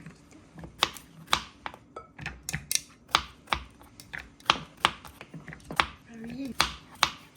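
Knife chopping food on a cutting board during home batch-cooking meal prep, a steady run of sharp close taps with voices talking at times.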